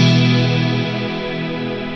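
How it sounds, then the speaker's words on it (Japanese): Electric guitar played through a compact multi-mode reverb pedal set to shimmer, sustaining a bright, octave-rich wash of chorused tones that slowly decays and swells alone without talk. "これとかだとシマーリバー"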